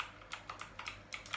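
A Razer BlackWidow V3 Quartz mechanical keyboard giving quiet, crisp clicky keystrokes, about seven or eight presses in an uneven typing rhythm, heard alone and close.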